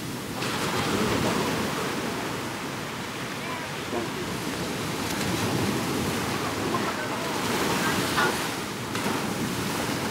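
Sea waves wash onto the shore in a steady, broad rush of surf, mixed with wind noise against the microphone, loud and continuous throughout.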